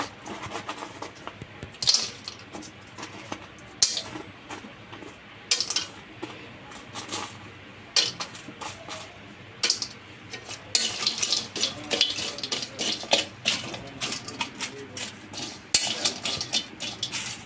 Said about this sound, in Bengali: এগুলো একটু মশমশা হইতে থাকুক, আমি এইগুলো ভেজে নেব।